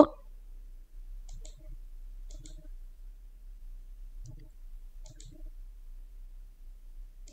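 Sharp mouse clicks sound while Microsoft Word's window settings are adjusted, coming in about five separate single or double clicks spaced across a quiet stretch with a faint low hum underneath.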